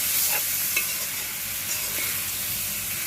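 Pork frying over a wood fire in a traditional Assamese outdoor kitchen gives a steady, close sizzle with faint stirring scrapes throughout, and no voices.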